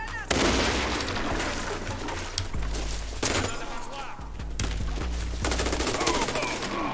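AK-Alpha rifle fire in a video game comes as rapid automatic bursts and separate shots, loud and repeated across the clip with short gaps between bursts and a voice talking at times.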